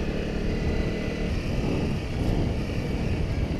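Honda CRF dirt bike engine out in the desert, a loud continuous motor drone that holds steady throughout, close by and with no talk over it.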